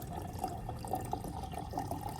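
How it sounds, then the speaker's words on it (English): Boiling water pours into a glass jar of rice, a faint, steady watery rush with a few small splashes throughout. "Then pour in about 1 liter of boiling water and stir gently so the rice is evenly"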